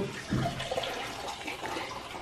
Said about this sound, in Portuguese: Tô pegando água aqui pra jogar no fogo.